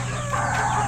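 A gamecock rooster gives a short, loud, close cluck or crow-like call, heard alone.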